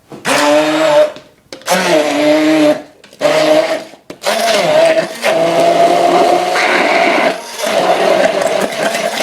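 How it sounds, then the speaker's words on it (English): An immersion blender pureeing bananas whirs in several loud bursts, stopping and restarting with short pauses, then runs steadily near the end. "we use an immersion blender to whiz it up"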